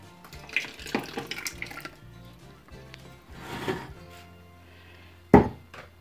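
A litre of tomato juice pours into a kitchen pot holding ground zucchini mixture for adjika, giving a splashing, gurgling flow with a few knocks and a sharp clatter near the end.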